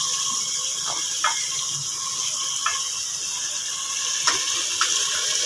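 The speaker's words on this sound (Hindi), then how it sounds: "इसके साथ ही हम इसमें डाल देंगे अपने पंजे, तो उनको अच्छी तरह से फ्राई करेंगे" Chicken feet fry in masala with a loud, steady hiss and sizzle, broken by occasional faint clicks and taps, with no talking.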